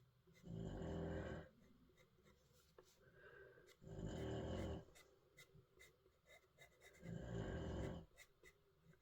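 A dog named Lexi snores in slow, loud rasping breaths, three long drawn-in snores spaced a few seconds apart with softer breathing between, close by, no voices.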